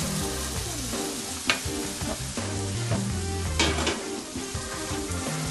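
A golden ocean trout fillet sizzles skin side down in a hot pan. The crackle is steady and close, broken now and then by sharp clinks of a utensil against the pan.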